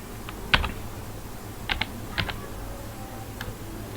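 Someone types a formula into Excel on a computer keyboard, a few sparse, light key clicks scattered over a quiet room hum, close by with no talk.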